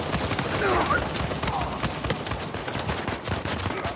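Gunfire in Uncharted 4 multiplayer, a dense, noisy stretch of repeated shots running through all four seconds at steady loudness, with game effects mixed in and no clear talk.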